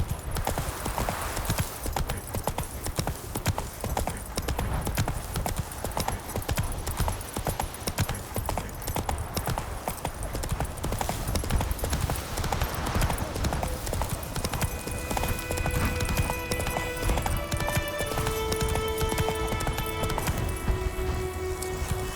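Horse hooves gallop in a rapid, steady clip-clop throughout a scene in The Witcher 3, loud and close, with soft musical tones rising behind them toward the end.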